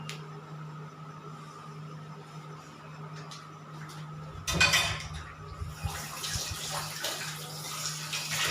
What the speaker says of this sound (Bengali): দেখুন, আমি একটি কড়ায় জল দিয়ে দিয়েছি 2 কাপের মতন